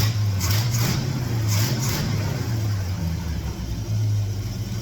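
A 1972 Ford F750 truck engine fitted with an Edelbrock setup idles loudly and close by, with a steady low rumble and three or four quick throttle blips rising and falling in the first two seconds.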